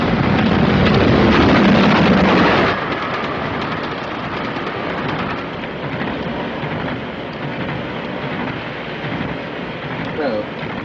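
Passenger train running steadily, a continuous loud rumble with wind-like rushing noise throughout, heavier for the first couple of seconds then easing to a constant drone.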